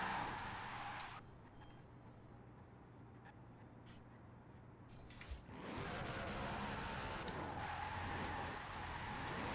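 A car drifting in Forza Horizon 4, engine revving loudly with tire screech, easing off briefly mid-slide before the roar and squeal build back up.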